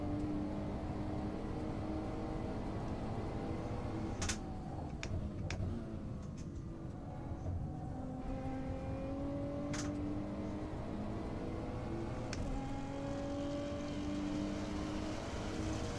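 An engine in the racing game Assetto Corsa drones continuously, its pitch rising and falling as it revs and shifts, with a few sharp clicks scattered through.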